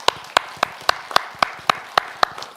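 Lecture audience at a hospital health talk clapping in unison, about ten crisp, evenly spaced claps in a steady rhythm, moderately loud and close, with no talk over them.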